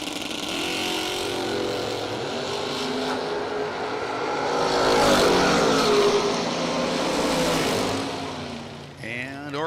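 Drag race at a bracket event pitting a 1969 Mach 1 Mustang against a 1963 Corvette roadster: loud, sustained V8 engine roar building to a peak midway then easing, with crowd and announcer noise mixed in.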